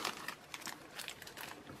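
Soft crinkling of a small plastic packet holding pearl half-beads, faint and close, with irregular light rustles and crackles and no talking.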